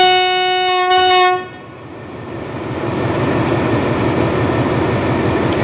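Special express train number 6, a downbound Chiang Mai to Bangkok Krung Thep Aphiwat service during the 2023 Songkran holiday, departs Nakhon Lampang station: a loud sustained horn blast, then rolling rumble and wheel noise building steadily.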